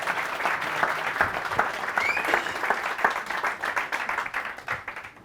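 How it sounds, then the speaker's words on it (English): Applause from an audience at a talk, a steady wash of many hands clapping that holds through most of the stretch and thins out toward the end. "Can we have a round of applause?"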